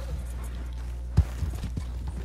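Horse hooves clip-clop in Red Dead Redemption 2, a few soft uneven thuds over a low steady background hum, with no talk.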